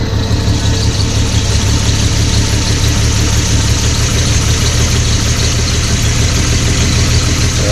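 A 2019 car engine with cheap replacement coils idles steadily and loudly up close, a continuous rumbling drone with no speech while the idle speed is being adjusted.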